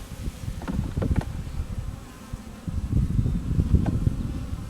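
Honey bees from a newly installed package buzz close by in a dense, steady drone, with individual bees zipping past now and then.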